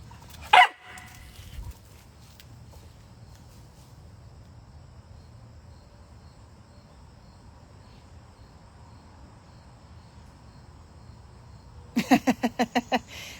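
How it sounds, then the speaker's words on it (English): A dog barks in a short burst of several quick, fairly loud yips near the end, after a single earlier bark, with a steady insect or cricket drone underneath and no talking. "Makes you laugh every time she barks."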